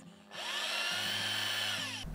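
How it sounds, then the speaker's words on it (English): A power drill whirs up and runs steadily at high pitch, boring through laminate with slight pitch wobbles, then stops abruptly. "I will drill the hole."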